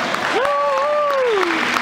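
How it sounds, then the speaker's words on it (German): A broad wash of clapping from a crowd at an equestrian trade fair prize ceremony, loud and sustained, with a voice cheering or calling over it briefly. "Herzlichen Glückwunsch und das ist euer Applaus."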